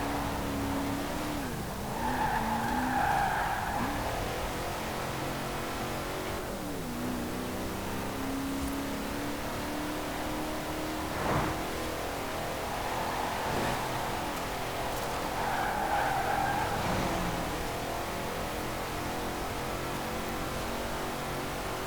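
Engine of a 1957 Hot Wheels Nash Metropolitan Custom in Forza Horizon 4, droning steadily with two swelling rev pushes and tire squeal, loud and close throughout.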